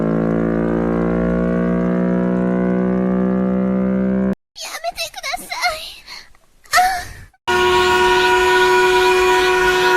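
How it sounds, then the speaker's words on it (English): A loud, sustained Chrysler air raid siren tone drones, breaks off for a stretch of speech, then returns at a higher steady pitch. "The Chrysler Air Raid Siren."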